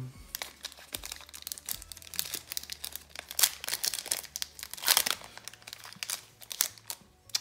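Crinkly plastic foil of a Pokémon card booster pack wrapper crackles and rustles up close in continuous busy bursts, with sharper crunches as it is pulled and torn at.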